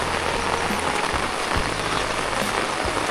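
Heavy rain pours steadily onto rice fields in a dense, constant hiss without letup.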